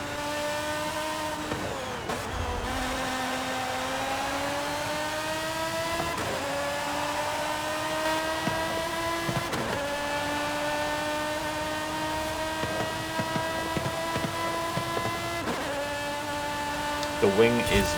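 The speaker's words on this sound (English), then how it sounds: "The noise this car makes is just brilliant as well." An Italian exotic sports car in a racing video game revs hard and holds a loud, continuous engine tone, with its pitch climbing through each gear and dropping sharply at several shifts. A voice talks over it.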